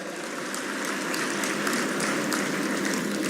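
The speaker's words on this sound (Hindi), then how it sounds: "ताली बजा के उनका स्वागत करें" Audience at a farmers' crop insurance program event in Madhya Pradesh applauding to welcome a dignitary, a sustained, dense wash of clapping that holds steady and slightly swells, loud and unbroken.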